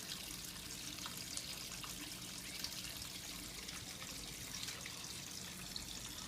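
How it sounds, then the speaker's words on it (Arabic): A small water fountain trickles steadily inside a goldfinch breeding cage, a soft continuous splashing hiss with no voices. "وهذه نافورة ماء"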